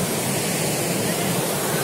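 Ocean waves surge onto the rocks at Digha beach at high tide in a steady, loud, broadband wash of roaring water with no distinct breaks and no voices.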